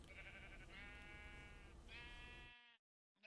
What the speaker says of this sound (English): We do not want to mess with the brown sheep